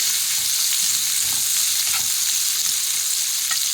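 Chopped onion fries in hot oil with a loud, dense, continuous sizzle heard up close, with a few soft stirring scrapes underneath.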